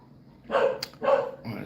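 Dog barking nearby: two loud, sharp barks about half a second apart, followed by a softer third yelp, standing alone over quiet room tone with no talking.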